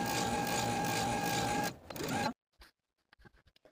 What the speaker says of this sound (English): I'm ready to stitch this facing down to the front bodice, following the same stitching line that we used earlier